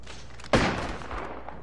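Gunfire in the shooter Apex Legends: a single sharp, loud blast with a short decaying tail, standing alone against faint game ambience.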